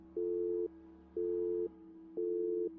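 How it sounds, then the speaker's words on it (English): A telephone busy tone sounds after a call is hung up: three evenly spaced, steady mid-pitched beeps, each about half a second long, heard clearly and close with no voices. "Then the phone was hung up."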